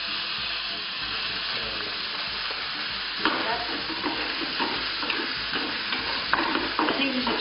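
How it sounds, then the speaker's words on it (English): Onions browning without oil in a rice cooker, a steady close sizzle with stirring scrapes and clatters growing busier toward the end, no voices. "See, you can get brown onions without even using any oil."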